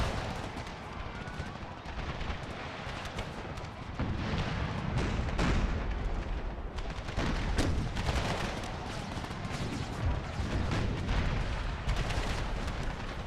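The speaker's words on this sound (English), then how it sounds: "There's so much, like, shrapnel in the air from all these howitzers." Howitzer artillery fire in an Empire: Total War battle with the Brothers vs. Brothers mod, a constant roar of booming cannon and crackling musketry that swells and stutters throughout, with a voice talking over it.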